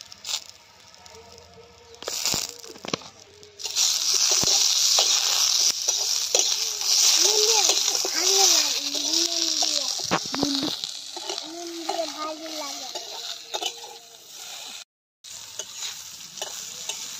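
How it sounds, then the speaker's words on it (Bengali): Flat sim beans sizzle steadily as they fry in a pan and get turned over, with scraping stir strokes and a few soft clatters heard up close, and the frying starts up loudly after a quieter opening. "বেশ সুন্দরভাবে উল্টিয়ে পাল্টিয়ে লাল লাল করে ভেজে নিয়েছি"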